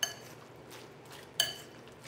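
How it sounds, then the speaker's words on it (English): Crab gently stirred into a crab cake mixture in a bowl, with a spoon clinking against the dish twice, once at the start and once partway through, amid quiet soft scraping. "a gentle stir to break up just some of the crab"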